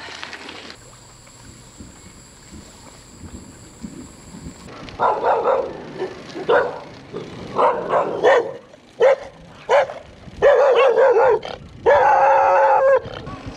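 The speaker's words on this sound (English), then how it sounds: "They don't seem to really want to bite us though, they just bark and kind of growl." Dogs bark and growl in loud, repeated bursts fairly close by on a back road in southern Thailand, with a steady mechanical hum underneath before the barking starts.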